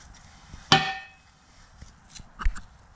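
Car exhaust headers for a 7th-gen Maxima are scuffed before ceramic coating, with one sharp metallic scrape-and-clank up close followed by a few fainter scratches and knocks.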